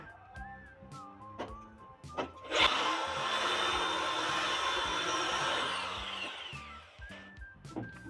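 A power drill bores into a wall, a loud sustained broadband whine lasting several seconds with brief bursts before and after, over faint background music.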